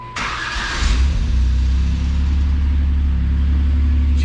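Jeep Wrangler JK engine cranking and catching after a spark plug and wire change, a brief starter whine giving way to a loud, steady, close-up idle rumble with no talking.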